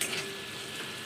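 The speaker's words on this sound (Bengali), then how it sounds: "এবার গাজর আর আলু একসাথে আমি ভেজে নেব" Carrots and potatoes fry together in a pan with a little salt, giving a steady close sizzle with faint stirring scrapes through the short stretch and a brief clatter at the very end.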